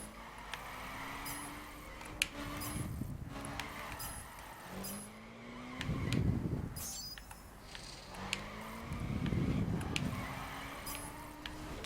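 A car drifting on a race track: the engine revs climb in repeated rising sweeps, each followed by a swelling rush of tyre and exhaust noise. The cycle repeats three times at a steady, moderate distance.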